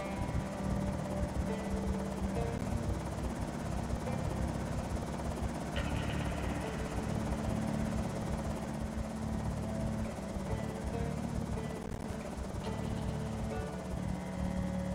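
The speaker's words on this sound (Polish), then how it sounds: "Ten śmigłowiec to jest jakiś, kurde, to jest jakaś kara." Helicopter flying overhead in the video game Project Zomboid, a continuous loud rotor thrum and engine drone sustained throughout without pause.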